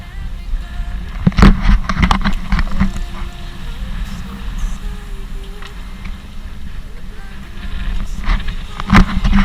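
Strong wind buffets a sailboat crossing open sea between Paraty and Ilha Grande, with gusty low rumbling against the microphone, a few sharper knocks and faint rigging or hull noise throughout.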